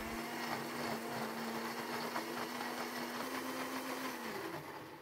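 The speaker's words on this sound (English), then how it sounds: "Blend them for 1 minute." An electric blender whirs steadily while grinding lemongrass, dried shrimp and belacan for sambal, a continuous motor drone with gritty churning that holds for several seconds before easing off at the end.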